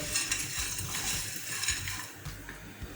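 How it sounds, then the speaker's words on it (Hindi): Eggplant frying over a low flame in a pan, a soft continuous sizzle with faint stirring scrapes and small clinks, fairly quiet and with no one speaking. "इस तरह से हम इसको फ्राई कर लेंगे"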